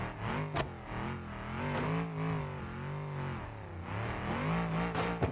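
Engine of a car in BeamNG.Drive held against the rev limiter, a loud, continuous buzzing drone with rapid wavering pitch stutters from bouncing off the cutoff, heard alone with no talk.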